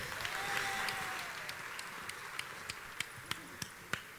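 Applause for a flamenco and copla singer at a tribute gala for a late singer, starting as a dense wash of clapping and thinning into scattered, separate claps with a few faint voices underneath.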